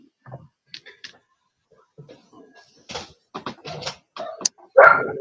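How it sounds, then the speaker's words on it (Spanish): A small dog barks and yips in short, scattered bursts over a live open microphone during an online energy-management class, the loudest yelps near the end, with faint background noise between them. "Tenemos un micrófono abierto ahí con perrito incluido."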